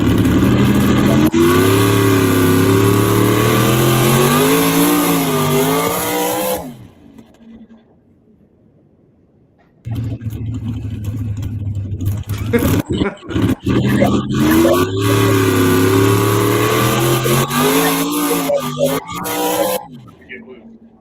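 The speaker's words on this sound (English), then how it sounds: "why am I pushing the throttle forward and the truck's dying?" A pulling truck's engine roars loud and close at a West Coast Pullers truck pull, its pitch wavering as it revs. It drops out for a few seconds, then bellows again with uneven surges before cutting off near the end.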